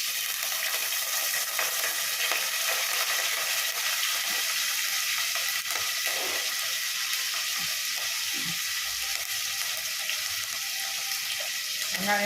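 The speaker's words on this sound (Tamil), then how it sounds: "இப்போது வெங்காயம் கருவேப்பிலை போடுறேன்" Onions and curry leaves frying in oil in a pan, a steady broadband sizzle that holds at an even, fairly loud level for the whole stretch with faint stirring underneath and no talk.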